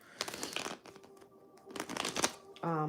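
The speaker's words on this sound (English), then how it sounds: "I got a couple decks I want to shuffle." Decks of cards being shuffled up close, a dry crinkling and riffling rustle in bursts, faint and soft, before a voice begins at the end.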